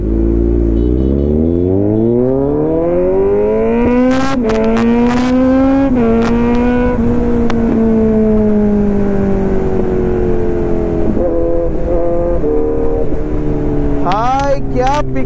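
A Kawasaki Z900 superbike pulls hard through the gears, its engine note climbing in long rising sweeps, dropping at each shift and rising again, loud and close, with a rider talking over the roar.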